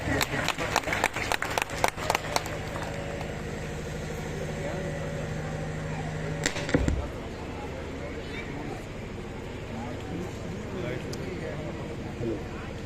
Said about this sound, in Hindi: जोरदार तालियों से स्वागत कीजिए डॉक्टर भरत प्रसाद जी का